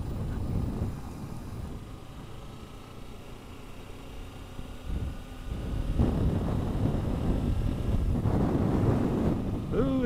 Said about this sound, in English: Ooh, some wind.